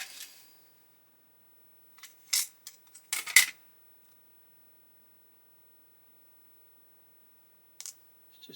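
A plastic model kit part, likely for a World War I aircraft, being cut with a blade or nippers: a few sharp snips and clicks in short bursts at close range, separated by long silent gaps.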